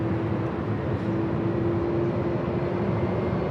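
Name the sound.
Delta 979 heavy jet airliner taking off at LAX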